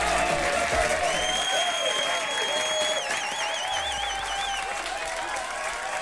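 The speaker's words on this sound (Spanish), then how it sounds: "Un aplauso para Sanzonita" A dense wash of recorded applause and crowd noise plays steadily during a Spanish-language Apex Legends livestream, thanking a raid, with a warbling electronic tone sliding over the top.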